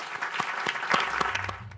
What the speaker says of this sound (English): So please give everybody a round of applause.